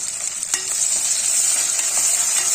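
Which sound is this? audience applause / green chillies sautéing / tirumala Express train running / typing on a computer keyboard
green chillies sautéing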